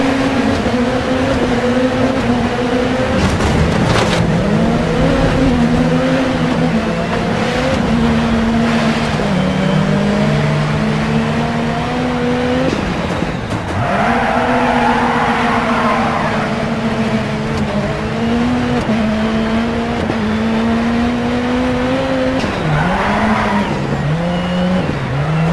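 Rally cars racing in Dirt 4, a loud continuous engine drone that rises and falls through gear changes, with brief tire skids and gravel spray, close and unbroken.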